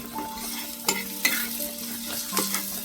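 Stirring a dry Maharashtrian sukka dish in a frying pan during home cooking, with spoon scrapes and clinks standing out over a steady sizzle for about three seconds, close and moderately loud, with no talking.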